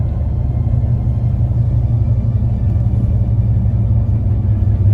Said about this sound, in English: gonna hit a couple little bumps right here